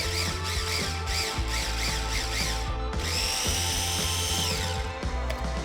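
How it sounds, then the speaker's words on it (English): A food processor whirs loudly as it chops scallions, a motor drone broken by short pulses in the first half, then a longer continuous run with a brief pause near the end. "they are gonna go in the food processor"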